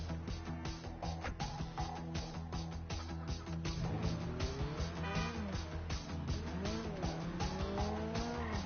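Car driven hard in GTA 5, engine droning steadily while tires squeal and skid in repeated rising and falling screeches, loud and close throughout with game music or ambience underneath.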